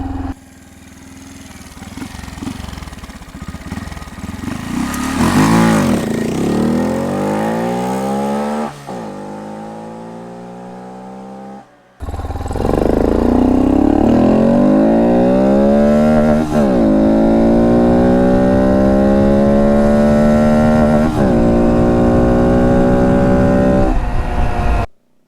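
A Honda Monkey motorcycle fitted with an MNNTHBX intake makes an aggressive takeoff, its small engine revving hard and climbing through gears with loud rising pitch sweeps, a brief pause, then another sustained hard pull nearby.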